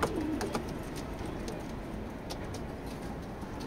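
A racing pigeon coos softly inside a loft, with a low murmuring call at the start over a steady background hiss and faint scattered rustles.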